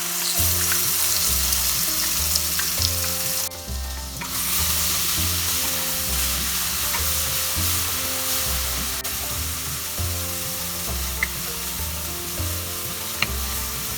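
Poppy seed paste frying with pointed gourd, turmeric and salt in a pan, giving a continuous close sizzle with faint stirring scrapes and small clinks throughout.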